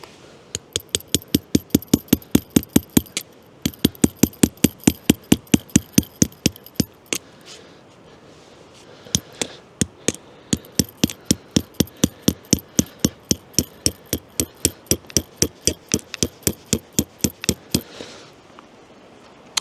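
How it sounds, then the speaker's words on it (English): A hammer drives aluminum J-hook tent stakes into cold ground in a national forest, with long runs of steady, sharp metallic strikes close by, a short pause midway, then more rhythmic blows. "I think in the future I'm going to buy a different hammer."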